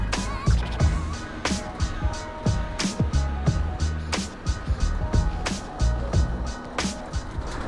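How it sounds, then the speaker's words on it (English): A Honda sport coupe on Koni sport shocks and lowered suspension rolls over a badly broken road, its steady low cabin rumble punctured by frequent sharp thumps and rattles from bumps and potholes. "For now Honda feels very good, but you can see the road is absolutely awful."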